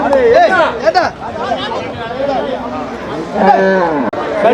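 Sindhi crossbred dairy cow at a busy cattle market in Melapalayam, lowing amid constant crowd chatter and nearby voices, with bellows rising over the babble.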